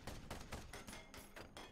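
Light cannon firing in the turn-based game Ironcast, a quiet string of roughly five evenly spaced heavy shots with no speech over them.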